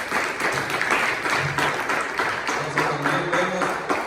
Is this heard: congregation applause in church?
yes